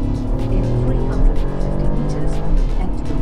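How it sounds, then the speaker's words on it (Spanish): A new fourth-generation BMW 1 Series accelerates, its engine rising in pitch as the revs climb, heard loud and close from inside the car with a voice talking over it. "Les voy a mostrar un poquito la aceleración en esta versión."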